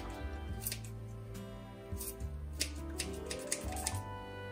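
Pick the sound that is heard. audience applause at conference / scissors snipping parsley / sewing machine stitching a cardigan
scissors snipping parsley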